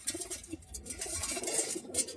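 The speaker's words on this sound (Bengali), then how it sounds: "আর এইদিকে বন্ধুরা একদম অরিজিনাল একটা সবুজ পেয়ার পেয়ে যাবেন" Green pigeons, a breeding pair kept by a hobbyist, cooing softly in short repeated low calls, fairly close, with light rustling and scratching around them.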